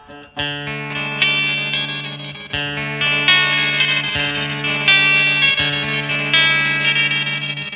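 Electric guitar notes run through a Flamma FS03 delay pedal, each note repeating with shimmering, pitch-shifted echoes that swell and trail into one another.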